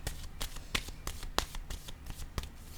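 Playing cards are shuffled by hand during a card reading, with a quick run of soft riffling flicks and snaps, close and distinct, and no voices.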